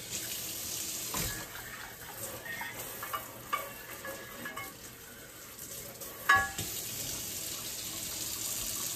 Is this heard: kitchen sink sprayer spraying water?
yes